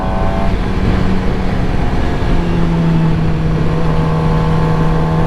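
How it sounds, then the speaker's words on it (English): A motorcycle holding second gear as it picks up speed on a highway, a steady, loud engine drone with a rising tone near the end, with wind and traffic noise. "Let's pick up a little bit of speed."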